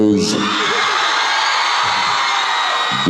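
A large crowd cheers and shouts loudly and continuously, with whoops and yells blending into a sustained roar.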